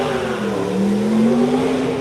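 Supercars at the Goodwood supercar paddock make a steady engine drone whose pitch rises gradually, heard from some distance with no talking.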